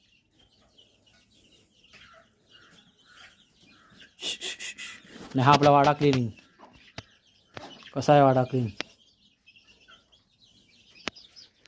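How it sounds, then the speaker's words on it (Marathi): Backyard hens and chicks cluck and squawk in two loud bursts amid softer chirps, with a person speaking nearby in between. "ही पहा आपली ही कोंबड्या."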